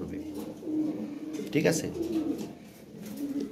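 Indonesian-colour Beauty Homer farm pigeons coo in low rolling phrases close by, while someone talks over them briefly.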